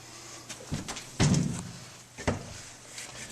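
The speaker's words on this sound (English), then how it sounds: "we're able to open the storm door" A mobile home storm door swings open with a couple of clunky knocks and a heavier thud, followed by a softer latch knock, close by with no talking.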